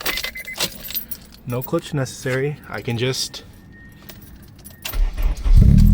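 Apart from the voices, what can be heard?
Acura RSX Type S car engine starting with keys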